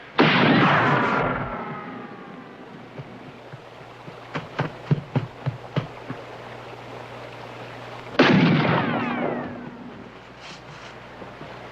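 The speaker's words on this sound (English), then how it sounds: "Why are they shooting?" Gunshots during a western film shootout, with booming blasts that echo, a string of sharp cracking shots in the middle and another heavy blast near the end over a steady background hum.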